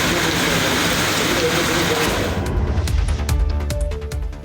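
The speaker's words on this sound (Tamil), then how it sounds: "செந்துறை சுற்றுவட்டார பகுதிகளில் மிதமான மழை பெய்தது" Moderate rain falls across a rural district, a dense broadband hiss of drops that shifts midway into a patter with distinct splashes and drips on nearby surfaces.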